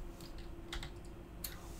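Computer keyboard keys are pressed a few times, giving sharp, quiet clicks over a low steady hum during a 3ds Max modeling session.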